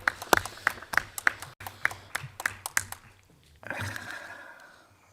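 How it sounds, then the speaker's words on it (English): Sparse, rhythmic hand claps for musicians at an International Criminal Court ceremony opening the judicial year, sounding as separate sharp claps before a brief swell of broader noise near the end. "Let us give an applause to these excellent musicians"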